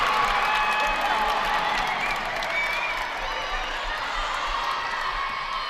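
Loud, sustained crowd roar fills a high school basketball gym during the All A Classic after a made layup, with cheers and clapping holding steady throughout, no single voice standing out.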